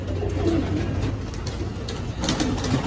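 Domestic pigeons coo steadily at close range, with soft repeated rolling calls over a low background hum and no talking.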